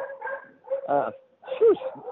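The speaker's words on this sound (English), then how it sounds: "Oh, sorry, that's my dog." A dog gives a few short, separate yips and whimpering barks nearby, quick bursts with gaps between them, and someone speaks around them.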